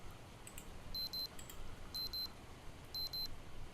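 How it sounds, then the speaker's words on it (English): An alarm clock in the video game Project Zomboid beeps in repeated pairs of sharp, high electronic tones, recurring about once a second over a steady low background hum. "And the alarm clock is ringing too"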